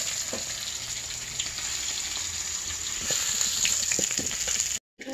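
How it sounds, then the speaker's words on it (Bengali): Fish sizzling in hot oil in a pan over a clay stove in a village kitchen, a continuous close crackle with scattered pops and spits, no voices. "মাছগুলো ভাজা হয়ে গেছে, নামিয়ে নেব।"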